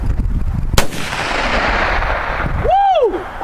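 A blast from 4 lbs of Tannerite set under a chest of drawers goes off as one loud, sharp boom outdoors and then rolls away into a long fading rumble, with a short whistling sound near the end.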